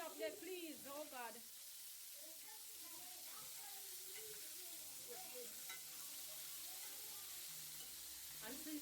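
Chicken frying in a home kitchen pan gives a steady crackling sizzle throughout, with people talking and laughing over it in the room.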